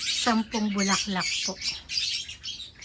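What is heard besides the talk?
birds chirping and calling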